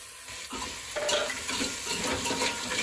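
A spoon scrapes and stirs crab curry masala in a pot from the bottom, with steady sizzling and occasional metal clinks against the pot, close and continuous, with no voices.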